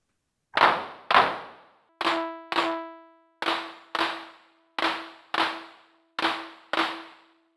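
Clap sound from a Roland TR-8S drum machine, a dry sharp clap struck about ten times in a steady pattern, some hits trailing a ringing FM-style tone, alone with no voices.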